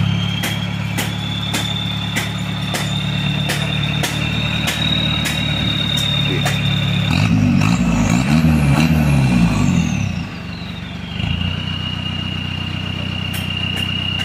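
Isuzu Panther turbo pickup idling with a full stainless exhaust and downpipe, a steady low rumble that briefly swells with a throttle blip before settling back to a smooth idle, with a faint high whistle throughout.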